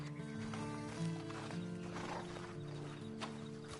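A horse in the video game Red Dead Online clip-clops and whinnies, soft and fairly distant, with a steady tonal background underneath.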